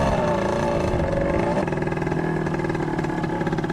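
An enduro motorcycle engine drones loud and close while racing on a trail in Lai Chau, its steady roar shifting pitch as the throttle changes.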